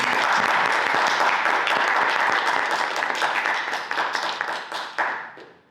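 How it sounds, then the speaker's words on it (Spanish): An audience applauds speakers at a talk marking two years since the October 18 uprising, close, dense clapping that thins out and tapers to a few last claps. "así que un aplauso"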